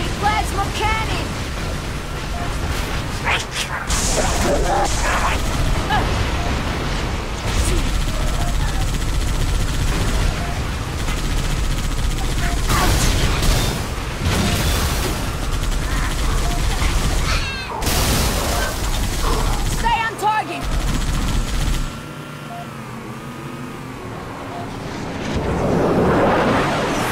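Plasma cannon blasts and gunfire rattle through a Halo 3 ODST battle, dense loud bursts and booms layered almost continuously, with in-game voices shouting over the fighting before it briefly thins near the end.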